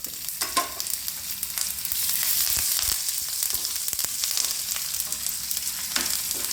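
Steady hiss of dried red chillies and curry leaves frying in hot oil for tempering, with a continuous sizzle and occasional pops and crackles, no voices.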